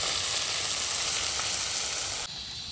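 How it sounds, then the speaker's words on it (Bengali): Puti fish frying in a pan over a small gas burner outdoors, a loud, steady hiss of sizzling oil that runs unbroken, then drops slightly quieter near the end. "ওইদিকে মাছটা ভাজা হতে হতে আমি এদিকে পেঁয়াজটাও কেটে নিই"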